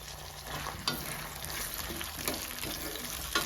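A soft, steady sizzle of onions frying in oil, with occasional faint clinks and stirring sounds, close by and without talk.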